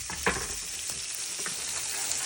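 Pumpkin seeds, peanuts and a cinnamon stick for Doña Maria mole sizzle steadily in hot oil, a dense continuous frying hiss with a few sharper crackles and a stir near the start, close and alone.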